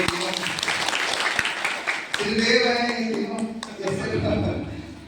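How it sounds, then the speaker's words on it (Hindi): Loud applause from a gathered audience at an RCM achievers' event, dense clapping swelling and easing over several seconds with a voice speaking over it. "एक बार जोरदार ताली बजाइए"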